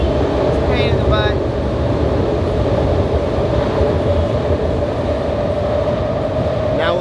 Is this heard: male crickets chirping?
no